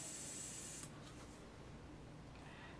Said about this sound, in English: Spray this through.